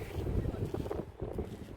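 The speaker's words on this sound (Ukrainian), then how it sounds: "Вітер з'явився" Steady gusting wind buffets the microphone at an outdoor pumpkin festival in an eco park in Kharkiv, a low rumbling roar with no voices.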